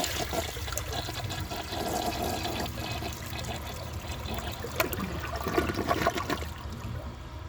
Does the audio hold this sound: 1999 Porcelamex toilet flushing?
yes